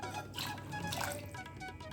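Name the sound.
water being poured into pressure cooker with moong dal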